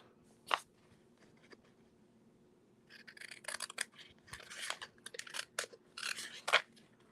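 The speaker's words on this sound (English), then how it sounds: "I'll get my scissors" Scissors cut card paper close up: one sharp snip, a pause, then a quick run of crisp crunchy snips of varied length.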